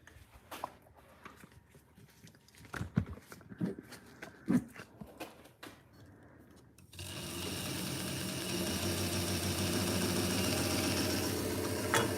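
Light clicks and handling noises come first, then a sword sharpening machine's motor starts and hums steadily and loudly until the end.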